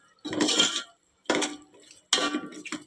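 Chicken pulao being mixed in a pot with a metal spoon, three loud bursts of scraping and clinking against the pot separated by short pauses, close by with no talk.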